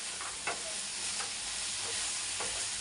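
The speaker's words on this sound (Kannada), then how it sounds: "ಈಗ ನಾನು ಗೋಡಂಬಿ ಹಾಕೋತಾ ಇದ್ದೀನಿ." Cashews frying with mushrooms in a pan for mushroom tikka masala, an even hissing sizzle broken by a few soft scraping stirs, with no one speaking.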